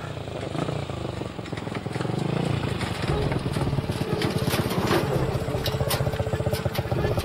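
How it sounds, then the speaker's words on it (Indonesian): A motorcycle engine runs loud and close with a steady rapid pulsing rumble and some clatter, building as it passes, with faint voices in the background. "Bawa motor macam nak pergi berperang."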